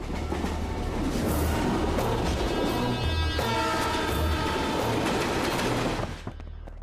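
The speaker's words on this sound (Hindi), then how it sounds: "ट्रेन की आवाज आ रही है क्या?" A train running on rails, heard from inside a moving carriage as a steady, loud rumble with clattering wheel noise that fades near the end.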